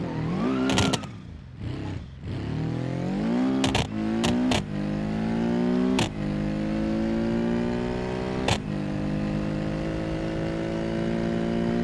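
The Hirochi Hill Climb Sequential race car's engine in the BeamNG driving game revs hard through rising pitches, with several quick sequential gear shifts, before settling into a sustained loud drone.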